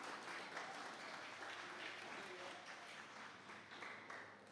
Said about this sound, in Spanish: Pero ese aplauso es muy fuerte.